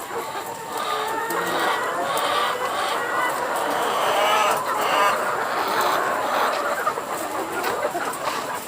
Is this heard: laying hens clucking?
yes